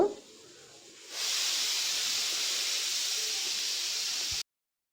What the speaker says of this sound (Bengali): মশলা কষানো হয়ে গিয়েছে এবার এর মধ্যে এঁচড়গুলো দিয়ে দেব